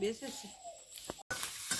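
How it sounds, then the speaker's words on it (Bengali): Fish frying in a pan as a home-cooked Bengali meal, a steady broadband sizzle running throughout, with brief clatters and a short break near the end. "এদিকে মাছ ভাজা চাপিয়ে দিয়েছিলাম হয়ে গেছে"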